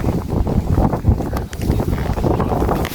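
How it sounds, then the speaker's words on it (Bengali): Strong wind buffets the microphone on a boat on the Payra River in rural Bangladesh, producing a continuous low, gusty rumble with no voices. "এই বাতাস এই বৃষ্টি এই ম্যাঘ নদীতে না আসলে বোঝা যায় না আসলে"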